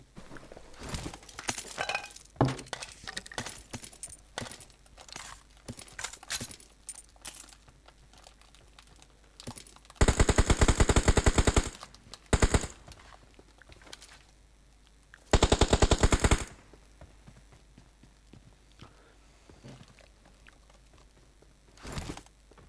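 PUBG Mobile gunfire rings out as scattered sharp single shots and two dense bursts of automatic fire, loud and close, with quieter clicks and crackles between them.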